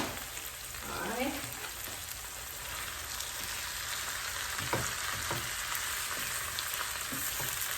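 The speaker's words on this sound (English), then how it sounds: "Now it's time to add the meat." Ground beef sizzles steadily in a hot pan for a Middle Eastern sloppy joe, a dense frying hiss with occasional scraping taps of a utensil stirring the meat, close and moderately quiet.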